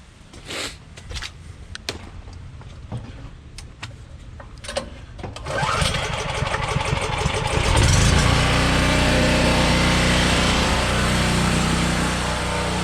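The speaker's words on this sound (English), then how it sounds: "just to show you how small a generator this thing can actually run on. So we're going to go out here and fire this thing up" A 3400 watt generator starting up and settling into a steady loud running drone, preceded by clicks and clatter, close and continuous for several seconds.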